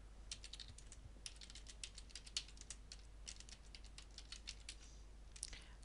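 A password is typed on a computer keyboard, a quiet string of quick, irregular key clicks at close range over a low background hum, with no one talking.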